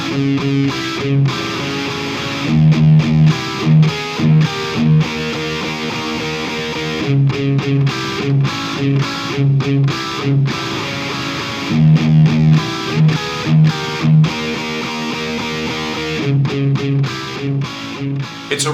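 A loud, heavily distorted electric guitar plays a chugging riff in repeated rhythmic phrases, with short sharp gaps between the chords.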